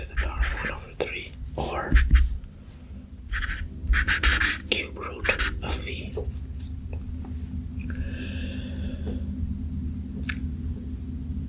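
A Sharpie marker writing on paper gives a close, scratchy run of irregular strokes and squeaks beneath soft male whispering, then settles into a steadier quiet stretch.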